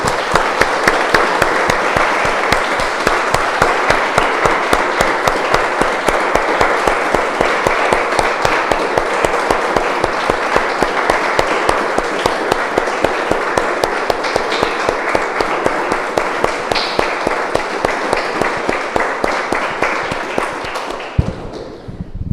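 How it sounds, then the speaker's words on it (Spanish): A church congregation claps together for about twenty seconds, a dense, steady, evenly loud wave of many hands that thins out and stops right at the end. "Damos un aplauso, hermanos, al Señor."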